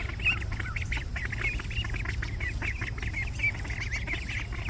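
A small flock of Khaki Campbell and chocolate Runner ducks mills about in their yard, with several soft quacks and chattering calls repeating close by over a low steady background.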